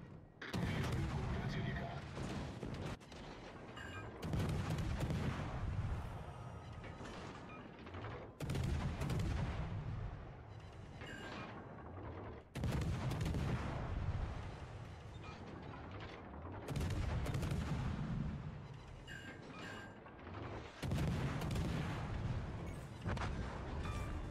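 Naval guns on warships boom in World of Warships Legends, several heavy salvos a few seconds apart with rumbling tails between them, fairly quiet overall.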